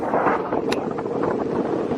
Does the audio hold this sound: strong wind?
yes